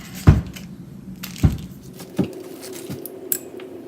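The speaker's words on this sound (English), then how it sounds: "Then we can use a wrench to tighten them up the rest of the way." A wrench tightening bolts on a Chevelle, heard as a few separate metallic clicks and clinks spaced about a second apart, close and fairly quiet, with no talking.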